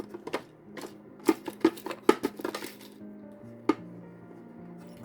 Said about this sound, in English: And now I will put the little fasteners.